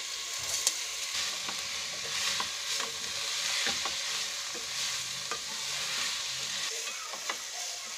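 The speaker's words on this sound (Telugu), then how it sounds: "ఇప్పుడు సొరకాయ తురువంతా వేసి దొరగా వేయించుకోవాలి." Grated bottle gourd fries in melted ghee for payasam, giving a soft, continuous sizzle close by, broken by light clicks and scrapes of stirring.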